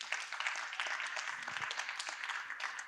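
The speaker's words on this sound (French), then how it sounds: "Applaudissons encore pour lui." Audience applause at a literary afterwork event, a steady dense patter of many hands clapping for the full stretch at moderate volume, with no talk over it.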